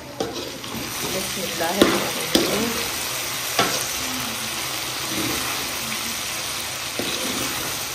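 A spoon stirs okra frying in a pan, with a soft constant sizzle broken by a few sharp scrapes and knocks against the pan, no voices present.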